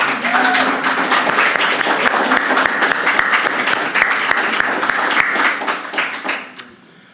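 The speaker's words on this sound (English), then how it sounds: "Can we have a big round of applause for them?" An audience breaks into sustained, loud applause that keeps a dense steady roar before tapering off at the end, with a voice talking faintly underneath.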